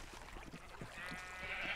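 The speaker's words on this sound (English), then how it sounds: "This is a nice view of what the sheep farm looks like." Sheep bleat a few times on a sheep farm in a video game, short faint calls over a steady low ambient bed with a brighter hiss rising toward the end.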